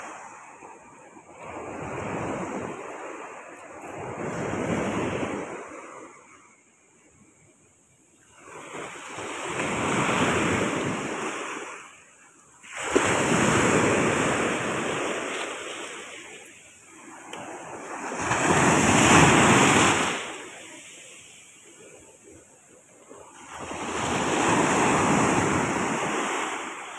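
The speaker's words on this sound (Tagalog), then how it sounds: "Yun, nasama sa alon." Ocean waves break and wash ashore in five loud, rolling surges under steady wind noise, each swell rising, crashing and fading before the next.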